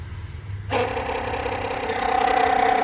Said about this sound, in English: The pump is on right now.